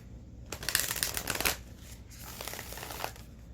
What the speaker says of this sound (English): I'm going to have to shuffle this right now.